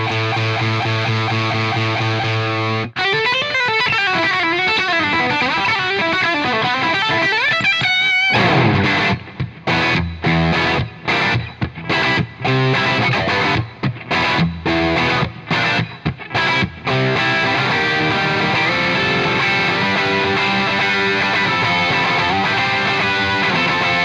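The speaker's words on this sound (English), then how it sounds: "It always seemed to me that this Naylor had a very smooth and musical distortion, kind of creamy for lack of a better word." An electric guitar played through a Naylor amp with smooth, creamy distortion: sustained chords and riffs ring out, then a stretch of choppy stop-start strumming, and the amp keeps sounding loud and steady with no talking.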